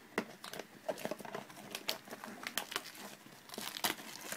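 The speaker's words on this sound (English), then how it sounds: "I need a blade. Just cut through here a bit." A blade cuts through the plastic wrapper of a Cardfight!! Vanguard booster box, giving close crinkling and tearing with irregular sharp scratchy bursts throughout and no voices.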